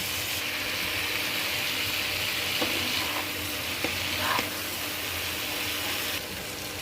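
Mixed small fish fry in oily spice paste, giving a loud, steady close-up sizzle broken by a few scraping stirs, with no talking.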